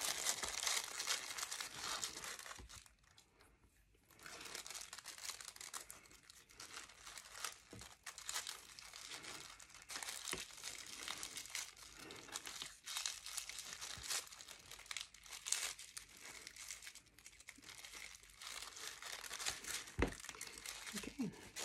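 Sticky tape crinkles and rustles as it is handled and torn while making a paper flower, a steady soft crackling that runs close and continuous with brief pauses.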